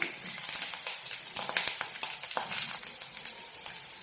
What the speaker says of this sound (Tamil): ஃபர்ஸ்ட் முதல்ல வெங்காயம், பச்சை மிளகாய் இதை சேர்க்கிறேன். இதுல பச்சை மிளகாய் லேசா வதங்கட்டும்.